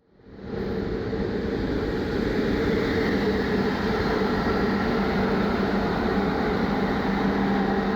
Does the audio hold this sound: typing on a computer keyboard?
no